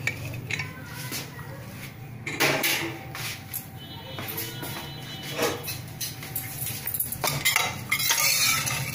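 A cooled pressure cooker holding boiled dal for sambar is opened, giving metallic clinks, scrapes and clanks of the lid and pot among kitchen clatter at close range.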